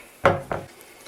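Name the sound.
knife cutting bananas into slices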